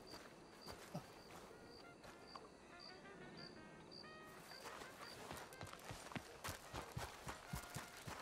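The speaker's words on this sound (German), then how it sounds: "Das dumme Pferd wollte halt wieder nicht stoppen" Horse hooves clopping in Red Dead Redemption 2, a western open-world game: faint, steady hoofbeats that quicken toward the end over a quiet outdoor bed with chirping insects.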